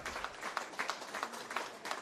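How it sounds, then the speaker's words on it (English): Applause from spectators at a women's football match between Illawarra Stingrays and Manly United, a distant, steady patter of many hands clapping around the ground for a player going off injured. "wave of applause rings out around the ground"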